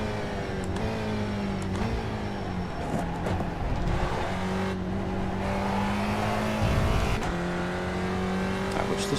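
Race car engines in an iRacing race roar loudly and continuously, rising and falling through gear changes as the cars accelerate, with occasional tire squeal.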